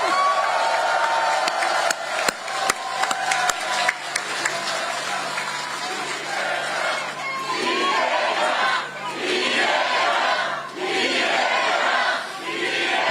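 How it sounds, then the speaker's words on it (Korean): A large outdoor crowd at a political campaign rally in Dangjin claps and cheers in loud waves, with scattered sharp claps early and swelling bursts of shouting and applause later on. "박수 한번 쳐주세요."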